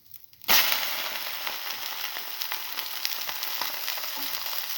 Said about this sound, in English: Then let it fry